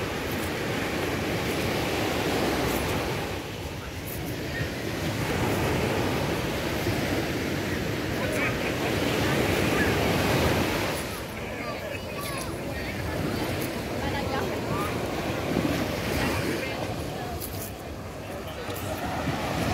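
Surf rolls steadily onto Wally Beach near Worthing on the south coast of Barbados, a broad continuous wash of waves with gusty wind buffeting the microphone and a voice talking over it.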